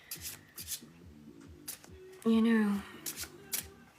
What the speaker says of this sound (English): I am just pulling cards out of a deck